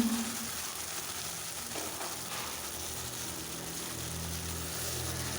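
Ground spice paste hitting fried onions in a pan for a rajma curry, giving a steady, moderately loud sizzle and frying hiss that continues without pause.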